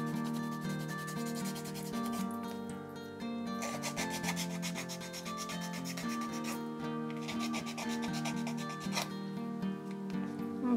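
A plastic bank card's edge is rubbed on 180 grit sandpaper in repeated close, scratchy strokes, rasping bursts separated by short pauses, with no talk.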